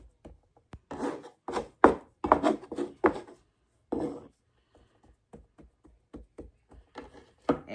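Sweet potato buttermilk biscuit dough is patted out by hand, giving close, soft slaps and rubs in an irregular series with brief pauses between them.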